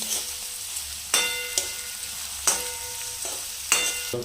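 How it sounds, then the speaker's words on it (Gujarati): Onions sauté in a pan with a continuous close sizzle, while a utensil stirs them, scraping and knocking against the pan in several distinct strokes. "ડુંગળી જ્યાં સુધી બરાબર પાકી ના જાય અને કાચી સ્મેલ જતી ન રહે ત્યાં સુધી આપણે શેકશું ડુંગળી"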